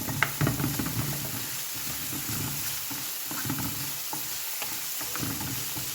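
Couscous cooking in a pan being stirred, with scraping and knocking strokes from the utensil over a steady background sizzle, close up and without talk.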